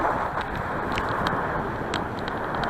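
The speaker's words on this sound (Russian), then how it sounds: "сейчас уже навстречу получается ветер" Steady headwind roar buffets the microphone while riding, a broad continuous rushing with faint higher clicks and rattles over it, in the Komi Republic.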